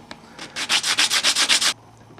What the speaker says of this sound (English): rub it against a piece of sandpaper until it's thin enough